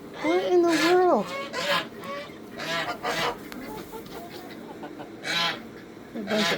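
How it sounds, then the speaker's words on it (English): Geese honk loudly and close at the start, with a long nasal honk followed by further bursts of honking and clucking among a mixed flock of fowl including chickens, with pauses between calls. "Oh, those geese are so loud."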